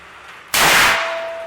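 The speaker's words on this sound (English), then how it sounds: "As you can see, that was a very mild round." A single sharp gunshot from a .45 Schofield revolver firing a mild cast bullet load, a loud close crack that decays over about half a second, then quiet room tone.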